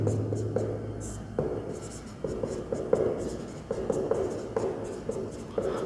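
A marker or chalk scratches steadily across a board in short repeated strokes while a teacher explaining triangle area speaks quietly over it.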